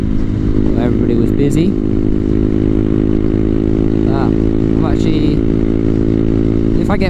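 A motorcycle being ridden, the engine a loud, constant close drone with a steady pitch, while a rider talks over it on and off.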